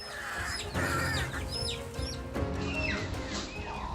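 A hen clucks and squawks in agitated bursts while fighting a crow, over a busy, noisy background, with other bird calls mixed in.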